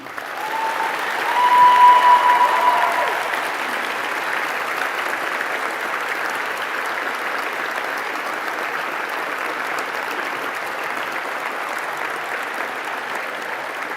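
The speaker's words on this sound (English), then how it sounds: "Give them an absolutely loud applause for the contribution they played in your life" A graduation crowd gives sustained loud applause, dense clapping that peaks early and then holds steady without letup, with no talk over it.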